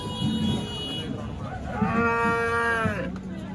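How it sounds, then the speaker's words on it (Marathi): A cow at a crowded cattle market in Chalisgaon lets out a drawn-out moo that rises and falls, close and clear over the steady murmur of a busy outdoor crowd. "ही गाय"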